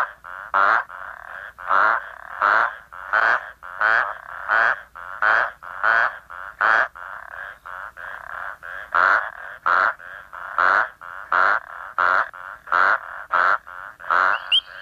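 Frogs breed at night in a temporary bushveld pond, giving loud, close, rhythmic croaking calls in regular repeated pulses, with a faint steady hum beneath.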